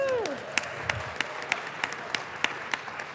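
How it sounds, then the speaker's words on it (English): Members of the Colorado House of Representatives applaud in the legislative chamber, a steady wash of clapping with several sharper individual claps standing out at regular intervals, moderately loud and reverberant. "I think that deserves a round of applause."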